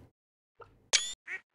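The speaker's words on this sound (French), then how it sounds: "Ah, le canard, il a tout foiré." A cartoonish duck quack from the video game Stardew Valley, a short bright honking burst followed by a second softer quack, heard alone with no talk.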